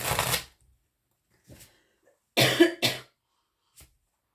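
A sick woman coughing indoors, several short, sharp bursts separated by quiet pauses, close and dry.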